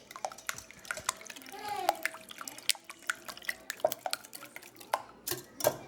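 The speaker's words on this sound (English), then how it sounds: "And then you're going to whisk them." Eggs being whisked in a measuring cup, a quick, uneven run of light clinks and taps against the container, close and fairly quiet.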